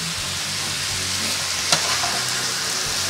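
Chopped spring onion hits a hot pan and fries with a bright, continuous sizzle and crackle, with a sharp stirring scrape partway through and no talking.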